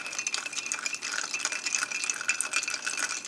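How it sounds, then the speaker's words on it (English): Water pours into a mug holding ice cubes and a sweet cherry tea bag, a steady close splashing fill with faint clinks, heard alone without talk. "pour in the water."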